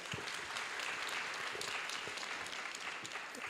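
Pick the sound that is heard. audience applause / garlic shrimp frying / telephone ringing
audience applause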